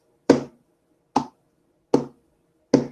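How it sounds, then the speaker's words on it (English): Four crisp hand claps in an even, slow rhythm, close and distinct with silence between them. "I'm going to clap it out"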